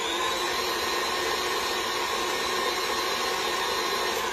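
An electric stand mixer fitted with a whisk whirs steadily while mixing sourdough bread dough, a constant close motor drone with no pauses and no talking.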